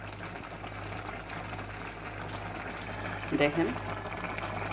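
Bitter gourd curry bubbling in a pot on the stove makes a steady low boil with gentle liquid churning, and a voice speaks briefly near the end.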